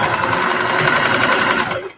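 Close and loud, a home sewing machine stitches an arm nursing pillow at a steady fast rhythm with a straight stitch, then winds down and stops at the end.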